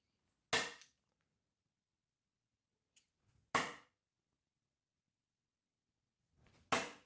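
Three darts hit a dartboard one at a time, each a sharp, close thud followed by a short decay, spaced about three seconds apart in an otherwise quiet room.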